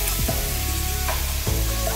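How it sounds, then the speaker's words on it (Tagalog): Water poured into a hot pot of Filipino adobo meat bursts into a loud, continuous sizzle, with a couple of sharp hissing flare-ups over about two seconds. "Yung ilalagay nating water, kailangan takpan po yung ating karne."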